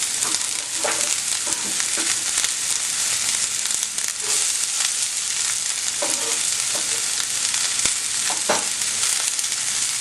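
Shrimp sear in smoking-hot olive oil, giving a loud, continuous hiss and crackle up close, with occasional brief pops and spatters over the steady sizzle.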